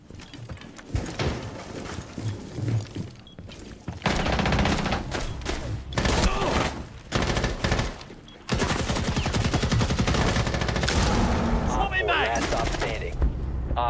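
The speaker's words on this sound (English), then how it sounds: "SMG-11 kicks a little more than what I remember" An SMG-11 submachine gun fired in the video game Rainbow Six Siege, with rapid, loud automatic bursts coming in several long stretches amid the clatter and thuds of close-quarters game action.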